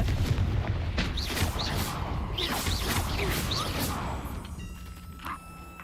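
Confringo blasting spell explosions in Hogwarts Legacy, a run of booming blasts and whooshes amid chaotic combat noise, with a player's voice shouting over the action before the din fades.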